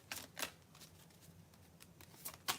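Tarot cards being shuffled in quick faint riffling bursts, with a couple of sharper snaps near the start and end, otherwise quiet.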